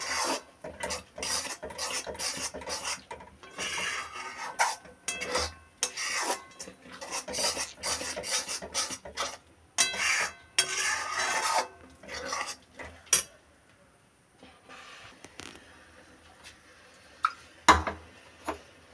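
Frequent stirring of mango puree in a pan, rapid close rasping scrapes of a spatula in quick repeated strokes, then quieter scattered knocks and a few sharp taps toward the end.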